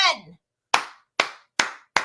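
A short voice is followed by four sharp, separate hand claps spaced evenly, close and loud, like a small group or single person clapping at a rhythmic pace.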